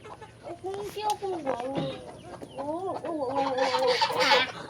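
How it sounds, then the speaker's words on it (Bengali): Several farmyard chickens cluck in repeated bursts as the birds come out of their coop, fairly close and continuous, with a person speaking over parts of it. "এবার সব মুরগিগুলো বেরোবে"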